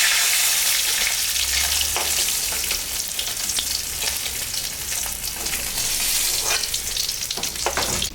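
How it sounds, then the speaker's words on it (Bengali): Dry red chillies, cumin and bay leaf dropped into hot oil left from frying koi fish, crackling in a loud, dense, continuous sizzle up close with a few sharper pops. "মাছ ভাজা তেলের উপরে এখন আমি শুকনো লঙ্কা, জিরা, তেজপাতা সম্বর দিই।"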